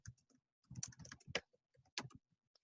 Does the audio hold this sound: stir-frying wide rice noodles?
no